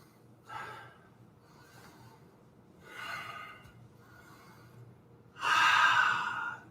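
Slow deep breaths during a Bikram-style yoga session, four airy inhales and exhales spaced a couple of seconds apart, close to the microphone, the last one longest and loudest.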